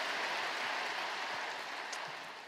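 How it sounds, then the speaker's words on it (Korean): A church congregation gives warm applause for the choir after a hymn, a dense, even wash of many hands clapping that fills the whole stretch and fades slightly at the end. "귀한 찬양으로 은혜를 주신 우리 배단위 찬양대에게 뜨거운 감사의 박수 한번 주시기 바랍니다"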